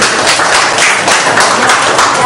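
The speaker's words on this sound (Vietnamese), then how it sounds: "Quý vị vỗ tay cho hai sơ đi" An audience at a charity event for children with HIV/AIDS claps steadily for two nuns, a loud, close, continuous patter of many hands with no talking over it.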